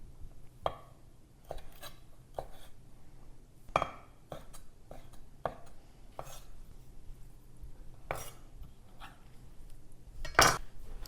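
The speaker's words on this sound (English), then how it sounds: "The shrimp I'm just going to cut in little segments." A knife cuts shrimp into small segments on a cutting board, making a series of sharp, irregular chopping taps that are close and fairly quiet, with a few louder knocks. No one speaks.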